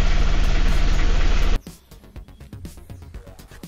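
A loud, roaring engine cuts off abruptly, leaving the 2.3-litre diesel engine of an Isuzu Panther idling while warming up, with a rapid, rhythmic clatter and knocking up close.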